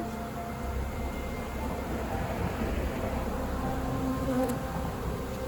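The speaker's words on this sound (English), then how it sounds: "It's a lot of bees." A dense, steady buzzing of a honeybee swarm on the first day of spring, continuous and fairly close, with no voices.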